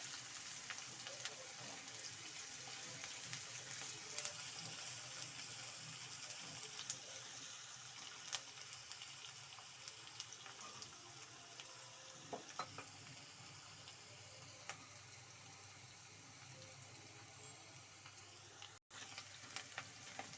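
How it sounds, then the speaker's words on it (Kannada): Onions frying in oil in a pan for tomato gojju, a steady, faint, even sizzle that continues for the whole stretch with no talking over it. "ಈರುಳ್ಳಿನ ಸ್ವಲ್ಪ ಫ್ರೈ ಮಾಡ್ಕೊಬೇಕು"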